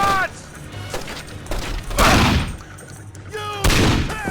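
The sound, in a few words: gunfire in a video game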